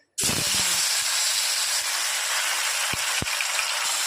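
A whole fish rubbed with salt and turmeric hits hot oil in a wok and bursts into a loud, steady hiss of frying. The sizzle holds with a couple of faint knocks near the end.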